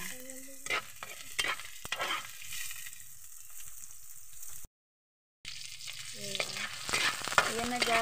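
Onions sautéing in a pan for beef skin balbacua, soft sizzling under repeated spatula scrapes and clacks, a brief gap of silence midway, then stirring resumes, close by with no talking.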